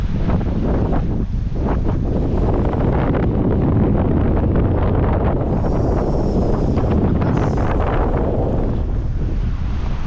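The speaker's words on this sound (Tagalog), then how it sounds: "sariwa na simoy ng hangin" Strong sea breeze roars across the microphone at a seaside fishing area in Jeddah, Saudi Arabia, a loud, constant gusty rush with no voices.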